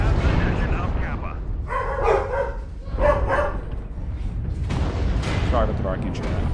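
A dog barking indoors during a live game stream, several loud bursts of barks spread over the clip and mixed with in-game mech combat sounds and voices.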